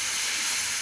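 Bottle gourd kofta frying in oil in a pan makes a loud, close, steady sizzling hiss that runs without a break.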